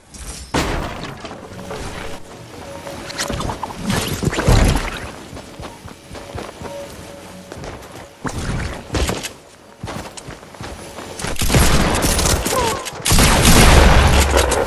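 Loud shotgun blasts in a video game, several heavy booming shots spaced irregularly among game noise, with bigger clusters of fire toward the end.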